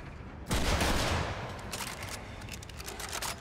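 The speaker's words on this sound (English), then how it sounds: "Now, the shotgun." A shotgun fires once in the video game Warframe, a sharp, loud blast with a rumbling tail that fades into lighter clicks and clatter afterward.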